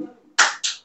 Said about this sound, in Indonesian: tepuk tangan 1 kali.